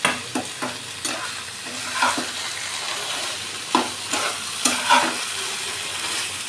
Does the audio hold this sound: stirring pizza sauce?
yes